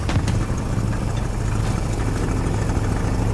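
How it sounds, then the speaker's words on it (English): A tank engine in War Thunder rumbles steadily at close range, a low continuous drone that holds level throughout with a few faint clanks on top and no talk. "Got engine noises front."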